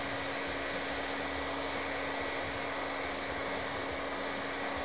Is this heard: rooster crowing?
no